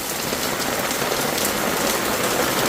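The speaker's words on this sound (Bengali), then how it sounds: "বাসার সামনে চলে এসছি গাড়িটা থামিয়ে অপেক্ষা করছি কারণ নামলেই পুরো ভিজে যাবো এত জোরে বৃষ্টি হচ্ছে" A heavy downpour drums steadily on a stopped car, a dense, even patter of raindrops close by with no voices.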